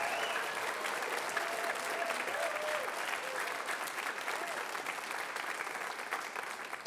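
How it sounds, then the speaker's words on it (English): A large crowd at a celebration concert claps as loudly as it can on cue, a full, sustained roar of hands that holds steady for several seconds and then eases slightly. "he wants to hear you clap really loudly"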